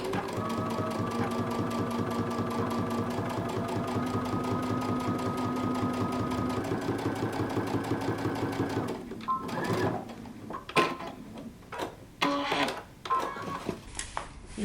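Sewing machine top stitching close to the edge of jumpsuit fabric, a fast steady mechanical chatter running continuously for several seconds, then stopping, followed by faint handling clicks and rustles.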